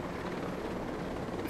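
Helicopter in the video game Ghost Recon Breakpoint, a continuous close rotor drone with steady thumping, heard alone and at an even level the whole time.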